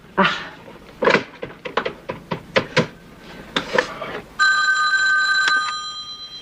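A telephone handset is dialed, a quick series of separate button tones, followed by a steady electronic ringing tone on the line, close and clear.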